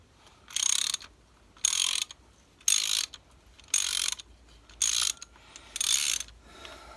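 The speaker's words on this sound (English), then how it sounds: "I haven't put too big a ratchet on here." Ratchet and socket clicking as an oil pressure switch is undone on a Suzuki GS 250 motorcycle, six close bursts of rapid pawl clicks at a steady rhythm with quiet gaps between.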